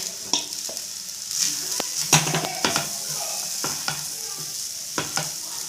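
A spoon stirring cooked rice frying in oil with onions for spicy egg rice: a steady sizzle runs beneath irregular scraping and clinks of the utensil against the pan, close and moderately loud, with no talking.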